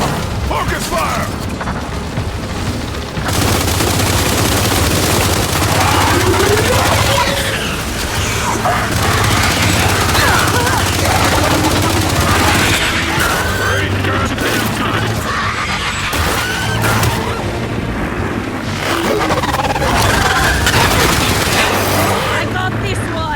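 Gunfire rattles through a Gears of War 5 Hivebusters DLC campaign battle, sustained bursts with clanking mechanical noise layered over them, while voices call out over the combat.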